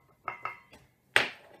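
A small double-ended spatula knocks and scrapes against a mixing bowl of tempered butter for oat biscuits, with two quick taps, a faint one, then a louder clattering scrape, close up with no talking.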